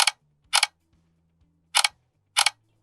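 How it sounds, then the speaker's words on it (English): A smartphone camera shutter clicks four times at uneven intervals, each one a crisp double snap, close and loud over a faint background hum. "that shutter sound is too annoying"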